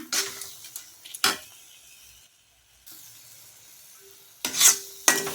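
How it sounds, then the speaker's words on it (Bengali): Mango sandesh mixture with ghee being stirred in a pan, short scraping strokes of the spatula in bursts separated by quiet pauses, close and moderately loud, no talk. "আর এবার সমানে এটাকে নাড়তে হবে"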